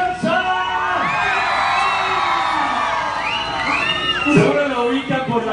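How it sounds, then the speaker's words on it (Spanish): A lively crowd at a Spanish-language show whoops and shouts in rising and falling bursts, with some whistle-like cries mixed in, loud and close throughout. "Chiflido y aplauso para Alex Garza."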